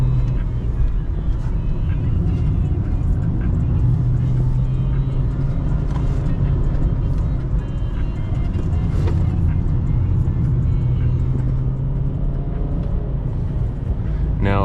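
Honda Fit car driving along country backroads in Cyprus, a continuous low engine and road rumble heard from inside the cabin, with steady tone throughout.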